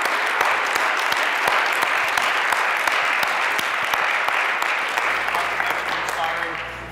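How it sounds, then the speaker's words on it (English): An audience at a talk claps in a dense, sustained round that stays loud, then tapers off toward the end. "Can we get a round of applause for Peter?"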